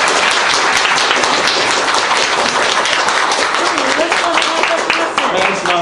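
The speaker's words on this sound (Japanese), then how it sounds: "拍手をお願いします。" Studio audience applause welcomes a guest on a Japanese talk show, a steady, dense wash of clapping from many hands that holds loud and even throughout, with voices faintly mixed in.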